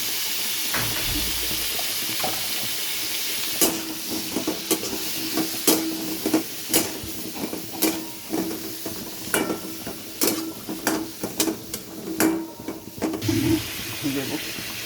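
Papaya and green chillies fry in oil with turmeric and salt for moong dal, giving a steady close sizzle broken by repeated sharp stirring and scraping knocks, with faint voice in the background.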